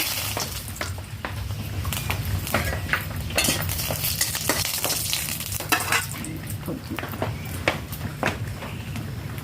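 Dried chili and a bay leaf sizzle in hot oil for a village-style potato and pui leaf dish. The frying is loud and close, broken by repeated sharp clicks of a utensil stirring against the pan.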